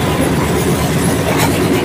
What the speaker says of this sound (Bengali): 22708 Tirupati Visakhapatnam double decker AC express.